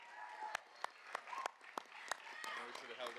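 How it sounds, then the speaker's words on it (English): At a board of education recognition awards ceremony, a few sharp, evenly spaced claps ring out faintly over quiet murmuring voices in a large hall. "Yes, applause."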